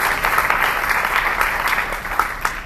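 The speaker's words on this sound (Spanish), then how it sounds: "¿Cuánto le da un aplauso al Señor?" Church congregation applauding during an evangelical inner-healing and deliverance workshop, a steady dense clapping that fills the room from start to finish with no one speaking.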